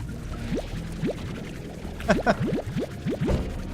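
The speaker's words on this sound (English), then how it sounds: "I don't usually stop for enough of a break to drink water." A person drinks water in a quick run of gulps, about a dozen rising glugs spaced a fraction of a second apart, close and fairly clear over a faint background hum.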